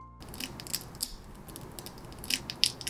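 Crisp crunching and crackling of a freshly 3D printed resin model of a cartoon crab, a series of sharp, close snaps and crackles scattered over a few seconds with no talking.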